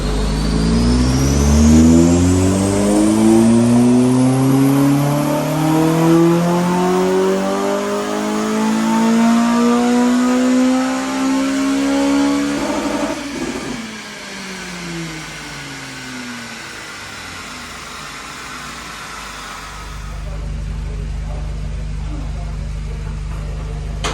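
A modified Honda car engine at an enthusiast meet revs up hard, pitch climbing steadily for several seconds, then drops off abruptly and settles into a rough idle, loud and close with outdoor crowd noise behind.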